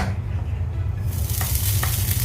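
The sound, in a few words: grated coconut being roasted in a pan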